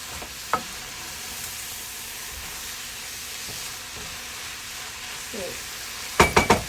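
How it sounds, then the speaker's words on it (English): Chard leaves stir-frying in a pan give a steady low sizzle throughout, with a faint knock near the start and a few sharp utensil clatters against the pan at the end. "I'm going to stir everything together"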